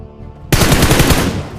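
Rapid automatic gunfire bursts loud and close in a battle-royale style shooter match, a dense unbroken stream of shots after a brief quieter lead-in.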